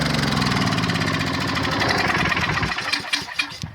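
A 3000 watt portable generator engine runs with a rough, uneven idle, a steady close mechanical drone that falters and sputters toward the end as it winds down.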